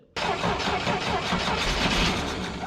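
A flooded engine in a 1967 International Scout cranks and sputters continuously up close, loud and uneven throughout, with no talking.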